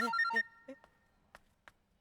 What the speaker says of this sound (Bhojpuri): राजमणि जी के फोन।